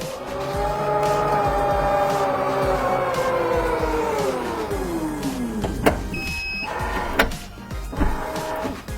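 An electric power tailgate on a Toyota C-HR closes, heard from inside the cabin: a steady motor whine that slowly falls in pitch for about five seconds, then a few clicks and thuds as it latches.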